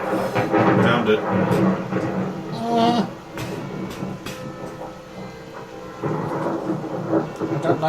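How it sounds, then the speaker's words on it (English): Thunder during a storm, long low rumbling rolls that swell and fade over several seconds, with a second surge near the end, accompanied by a voice speaking over the rumble. "Thunder means lightning."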